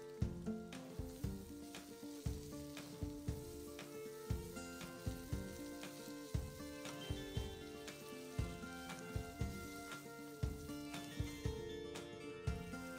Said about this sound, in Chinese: 将所有食材炒香炒熟